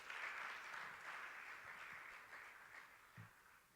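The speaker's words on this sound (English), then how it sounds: "Can we give him another round of applause" An audience at a business conference breaks into a steady round of applause, a dense wash of clapping that holds for several seconds at moderate level and eases slightly toward the end, with no talking over it.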